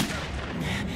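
Gunfire in the video game Metro, set in tunnels: a dense, loud, continuous burst of shooting with booming impacts filling the entire short moment.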